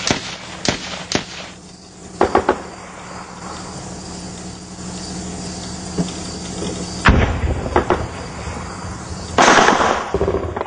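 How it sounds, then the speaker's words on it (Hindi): Gunfire from a militant attack on an army patrol in Kupwara: sharp cracks and pops, single shots and short clustered bursts, with a heavier flurry near the middle and another toward the end over a steady outdoor background. "गोलियों की आवाज दिख रही है"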